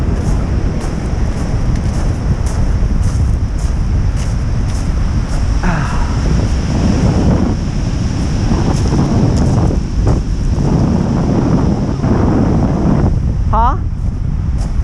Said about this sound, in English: The waves are bigger and stronger.